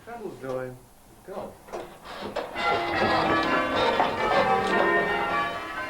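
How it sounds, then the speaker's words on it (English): Church bells are change ringing for a wedding, pealed by the Guiseley bell ringers, with overlapping metallic strikes building into a dense, continuous peal under a voice. "Today they are ringing for a wedding ceremony."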